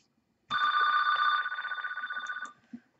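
A phone in the Zwinky video game rings with a bright electronic warble lasting about two seconds, loud and steady before fading, followed by a faint thump.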